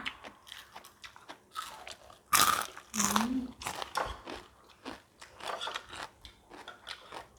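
Crunchy bites into home-fried chicken skin cracklings eaten with a spicy Thai shrimp papaya salad, giving several sharp close crunches and chewing sounds, with a voice talking between bites.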